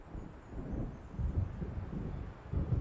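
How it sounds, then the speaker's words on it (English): Thunder from an approaching storm in the Alan Wake video game rolls as low, continuous rumbling, with heavier swells near the middle and end and no voices. "It seems there's a storm coming."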